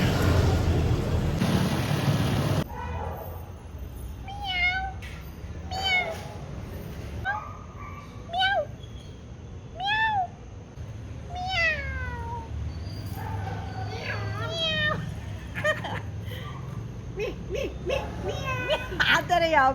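A cat meows repeatedly in short rising and falling cries, scattered across the stretch at close range. A person talks over a steady background rumble.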